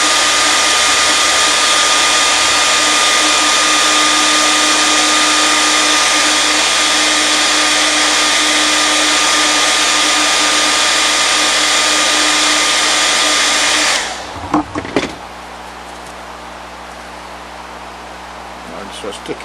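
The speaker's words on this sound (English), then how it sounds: "if we had not dried the glue with the hairdryer" A hair dryer blows steadily and loudly for about fourteen seconds while drying glue on a foam puppet head, then cuts off, leaving faint handling noises.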